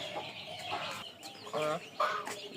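Hens clucking in short bursts, fairly close, with a rooster-like call breaking in near the end.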